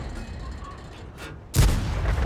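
An M36 Jackson tank destroyer fires its main gun in a video game: one loud, sudden boom that cuts through a low rumbling background and rings out for a moment.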